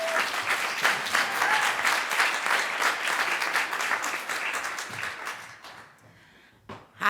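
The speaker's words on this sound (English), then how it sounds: "So please give a round of applause to Kelly Carlisle." An audience at a community forum panel on Black liberation and the food movement gives a dense, sustained round of applause that gradually thins out and fades near the end, with a final isolated sound.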